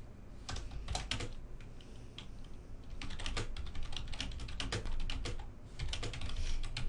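Quiet, steady computer keyboard typing in bursts of soft clicks over a low background hum, heard at a slight distance.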